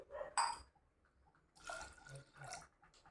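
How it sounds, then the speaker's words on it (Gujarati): Water is poured into a pressure cooker over washed urad dal (split black gram) for Kathiyawadi dal, giving a brief splash and trickle at the start, then softer pouring and clinking through the rest, fairly quiet and close. "મેં અહીંયા 2 ગ્લાસ ભરીને પાણી નાખ્યું છે"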